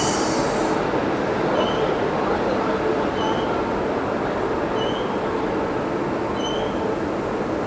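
Rewa Express, running from Rewa to Anand Vihar, rolls past a station platform at Prayagraj in a steady, loud rumble of wheels and carriages. Faint periodic high squeals recur throughout, with no talk over it.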